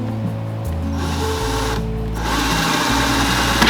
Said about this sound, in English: I have to just let the drill do its thing and not push on it